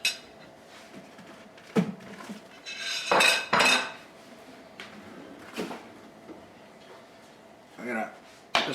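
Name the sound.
covering a pot of beans and sauerkraut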